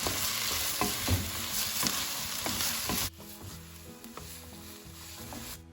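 Tempered onions and tomatoes fry with soaked cashews in a pan, a steady bright sizzle with scraping stirs and light taps of a spoon, which drops to a quieter simmer partway through, no talk.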